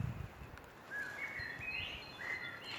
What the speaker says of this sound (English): the birds are singing because in the morning in Austria that is normal for the birds that they are singing